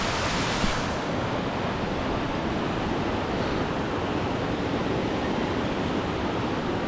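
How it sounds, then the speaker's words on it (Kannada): Water running down from a waterfall at Charmadi, India, makes a continuous broad rushing roar, steady and fairly loud throughout, with no voices over it. "ಇದು ಫಾಲ್ಸಿಂದ ಬರ್ತಾ ಇರೋ ನೀರಷ್ಟೇ."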